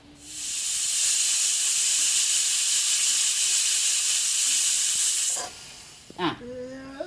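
Pressure cooker with its weight just set on the lid, letting out a loud, steady hiss of steam for about five seconds before it cuts off, followed by brief voices.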